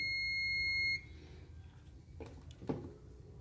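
A multimeter's continuity test gives a steady, shrill electronic beep that holds for about a second and then cuts off, followed by a couple of faint clicks in a quiet room.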